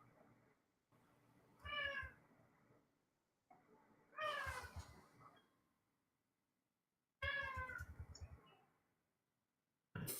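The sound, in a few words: child imitating cat meows in another room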